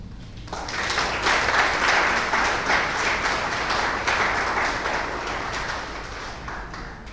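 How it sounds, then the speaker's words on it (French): Audience applause after an inaugural academic lecture, a dense burst of clapping that rises quickly, holds strong and slowly tapers off, with no talk over it. "Vos applaudissements traduisent, je suppose, votre écoute attentive et votre satisfaction."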